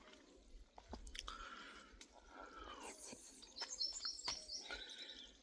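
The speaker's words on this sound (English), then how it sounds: "Bird them sound happy." Birds chirping outdoors in a quiet natural setting, with scattered faint tweets and calls, some brief and some a little longer, heard at a distance with soft close chewing-like noises mixed in.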